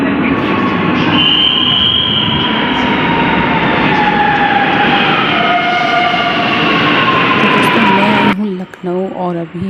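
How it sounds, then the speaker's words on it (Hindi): Lucknow metro train in motion, a steady loud rumble with a rising tonal whine that cuts out near the end, where people begin talking. "अभी हम मेट्रो से जा रहे हैं अपने काम से"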